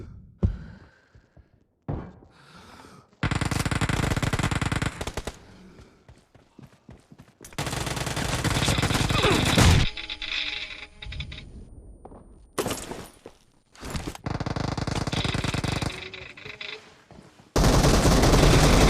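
Gunfire in the battle game PUBG, with long sustained bursts of automatic fire broken by short pauses and scattered single shots, loud and close, and no talking.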